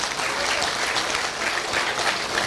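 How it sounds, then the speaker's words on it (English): Parents in the audience at a school annual gathering clap in a continuous, even round of applause that fills the room, steady and moderately loud, with no one speaking over it. "let's give them a rocking round of applause."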